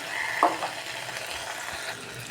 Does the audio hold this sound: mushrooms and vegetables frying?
yes